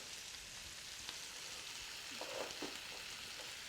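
Chicken drumsticks seasoned with salt and pepper sizzle as they brown in a pan over a Weber kettle grill, a steady broadband hiss of frying with a few faint pops and clinks, fairly quiet and continuous.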